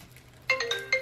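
A mobile phone ringtone plays a short bright melodic chime of several quick notes, repeating after a beat, near and clear over a quiet room.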